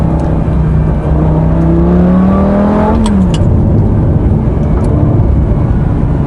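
A Lamborghini Gallardo engine drones loudly on the move along a country route, its pitch climbing steadily as it revs up, then dropping sharply as a gear shifts, with constant road and wind rush.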